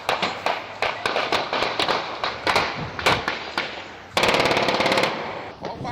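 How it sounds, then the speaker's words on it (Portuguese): Bursts of gunfire in a shootout between drug traffickers in the Romão and Cruzamento neighbourhoods of Vitória, with rapid rounds in quick succession and a sustained automatic burst near the end, loud and echoing. "A troca de tiros ocorreu nos bairros Romão e Cruzamento"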